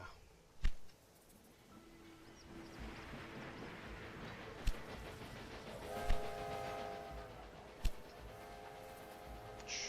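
Trains running in the video game Railway Empire 2 on a Sicily scenario: a steady rolling rumble with rail clatter, punctuated by several sharp horn and whistle blasts and knocks, with no talking.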